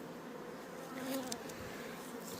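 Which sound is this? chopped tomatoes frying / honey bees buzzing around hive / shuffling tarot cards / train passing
honey bees buzzing around hive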